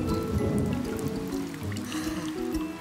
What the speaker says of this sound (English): Is the rain ever going to stop?